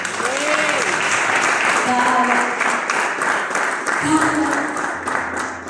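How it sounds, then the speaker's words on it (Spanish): Church congregation applauding together, a loud, sustained burst of clapping that fills the room from start to finish, with faint voices and brief tonal sounds showing through the noise. "denle un aplauso al Señor"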